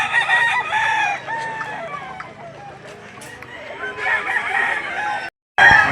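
Roosters crow repeatedly at a gamefowl auction in Lipa City, Batangas, with clucking fowl mixed in, and people talk underneath. A brief dropout cuts the sound before the crowing resumes.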